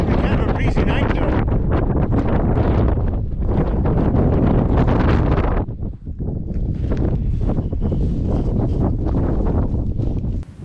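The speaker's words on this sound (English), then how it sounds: "This wind's getting really annoying, but it also keeps you cool, so it's not all bad." Strong wind buffets the microphone on a mountain peak during a high-country traverse, a loud, gusting roar that dips briefly midway before surging again.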